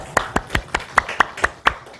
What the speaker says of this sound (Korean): 우리 박수 한번 쳐줍시다.